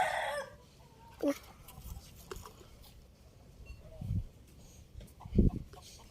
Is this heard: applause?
no